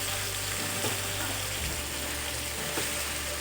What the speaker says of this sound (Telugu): అలాగా ఈ చేప ఫ్రై కదండి, ఇలా మారిస్తే బాగుంటుంది